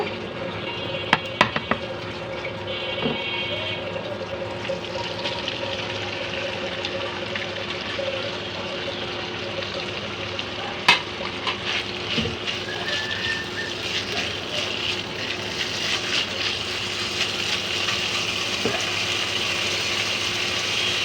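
Pangas fish sizzling as it fries in hot oil in a pan: a steady, dense crackling hiss with a few sharp clicks near the start, holding close and fairly loud throughout.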